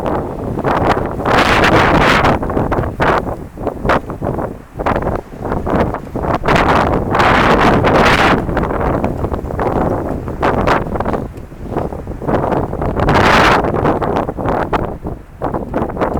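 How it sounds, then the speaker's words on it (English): Strong wind buffets the microphone in loud, surging gusts that rise and fall continuously, with a roaring rumble throughout and no voices. "I think the wind is blowing between 20 and 30 clicks an hour."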